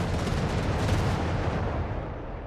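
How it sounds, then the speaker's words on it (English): Sustained artillery and gunfire from Company of Heroes 3, an auto-cannon and 6-pounder guns in battle, as a dense, loud, continuous barrage of overlapping booms with no gaps, easing slightly toward the end. "auto-cannon ripping into the archetype there, backed up with 6-pounder guns"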